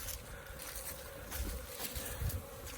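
Honeybees hum steadily at a hive entrance, a dense, continuous buzz of many insects close by with small swells, quiet overall and without voices.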